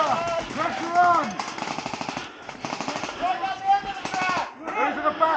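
Airsoft guns firing during a large airsoft festival skirmish, bursts of rapid clattering shots close by, with people shouting and talking over the gunfire.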